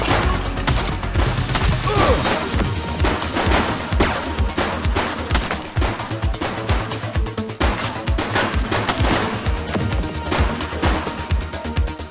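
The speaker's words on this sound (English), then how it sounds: "He's shooting!" Continuous heavy gunfire in the video game The Precinct, a dense fusillade of rapid, loud shots with crashing impacts throughout, no pauses.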